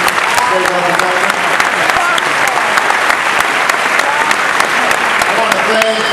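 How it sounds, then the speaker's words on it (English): Sustained audience applause at a political speech event in Iowa, a loud, dense wash of many hands clapping continuously throughout, with voices faintly mixed in. "Give him another round of applause, please."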